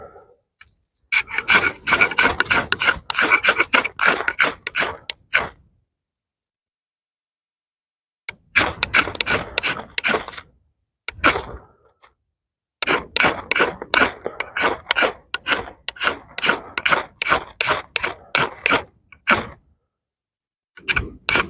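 The spine of an Eafengrow EF142 knife is scraped outdoors in quick, repeated rasping strokes that come in three bursts separated by pauses, with skipping and chatter making each stroke sound uneven and ticking.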